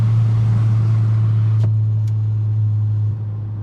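A 2023 Acura Integra A-Spec with a full 3-inch stainless DC Sports catback exhaust drones steadily at low cruise, heard from inside the cabin, loud and constant with a couple of faint ticks and a slight drop near the end.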